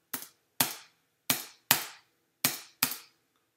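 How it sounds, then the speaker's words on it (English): A computer keyboard space bar pressed six times in quick, irregular succession, each press a sharp, close click with a brief decay and silence between. "So what you're hearing is the space bar that I'm pressing"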